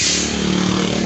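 A modified Hino 500 truck's brake gives off a sustained mechanical whine with a steady droning tone over engine rumble, loud and close, no pause across the moment.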